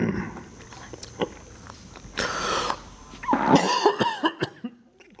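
Coughing after eating pieces of cashew fruit, several harsh bursts in the middle and later, close to the microphone, mixed with rustling and small handling noises.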